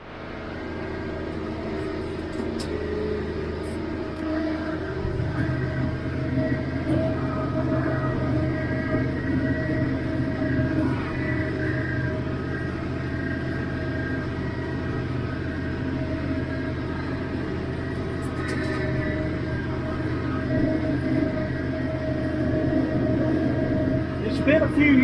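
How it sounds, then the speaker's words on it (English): A Massey Ferguson 1105 tractor pulling a John Deere 348 hay baler with a steel kicker wagon, a steady heavy engine drone with rhythmic mechanical churning, continuous and fairly close, with someone talking over it. "Massey 1105 John Deere 348, hooked up to one of the steel kicker wagons I bought."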